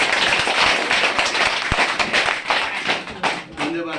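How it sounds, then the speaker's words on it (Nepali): Loud clapping from workshop participants at a capacity-building program, dense and close with scattered sharper claps and thumps, some voices mixed in. "एकपटक जोरदारले ताली बजाउनु"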